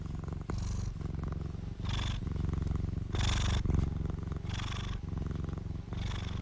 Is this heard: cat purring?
yes